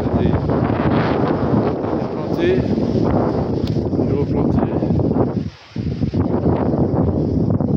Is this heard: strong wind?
yes